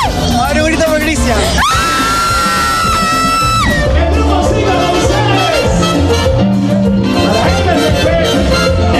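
Fans yell, scream and cheer loudly over live cumbia music at a 2015 tribute concert in Peru, the crowd noise continuous and dense throughout.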